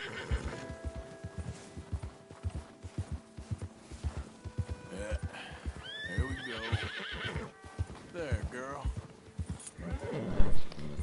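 Horses in the Red Dead Redemption 2 video game whinny and neigh in several rising, shaky calls over steady clip-clopping hooves on snowy ground, with talking running underneath throughout.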